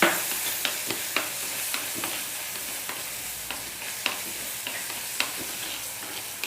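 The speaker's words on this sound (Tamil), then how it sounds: "இந்த ஸ்டேஜில் தக்காளி போட்டு வதக்கிடுங்க" Onions and tomatoes sauté in a hot pan, a steady bright sizzle broken by frequent sharp scrapes and taps of a stirring spoon.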